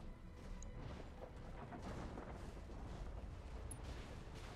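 A large explosion in the PC mech strategy game BattleTech rolls as a dense, distant rumble with scattered booming crackles, sustained and fairly quiet with no talk over it.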